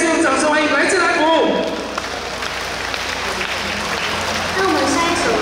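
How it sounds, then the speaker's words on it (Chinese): Outdoor evening concert crowd at a military dependents' village culture festival applauds a singer, broadband clapping loud at first, then easing under a live host's voice and stage sound. "再次用掌声欢迎来自来福"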